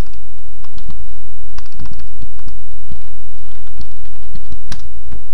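Computer keyboard keys are tapped in uneven bursts while entering data in an MS Excel spreadsheet, close and crisp against a steady background hum.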